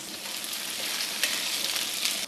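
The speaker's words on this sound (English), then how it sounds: "Frying these first gives the potatoes some structural integrity" Baby potatoes fry in a pan of hot oil for Korean braised potatoes, giving a steady, close hiss of sizzling with a few brighter crackles.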